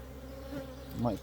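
Honey bees buzzing around hives in a farm apiary, a low steady drone that swells briefly as a bee passes close.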